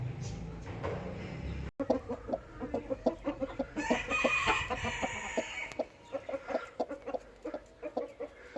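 A broody hen clucks in a steady run of short, soft, low clucks, close and quiet, with a brief higher call in the middle and no talking.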